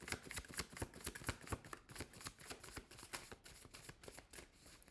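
Tarot cards being shuffled and pulled, a quick run of close, crisp riffling flutters and soft slaps that continues without a break.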